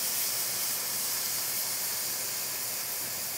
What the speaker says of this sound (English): I do want to press this just a little bit, just to make sure all the sides are getting seared well